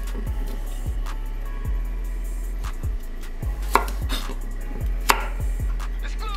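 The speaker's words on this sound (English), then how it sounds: "Now I'm gonna take this cucumber that I peeled. We're gonna chop that down," A knife chops a peeled cucumber on a cutting board in a steady run of close, distinct thuds, about a dozen evenly spaced strokes, with a low hum underneath and no voices.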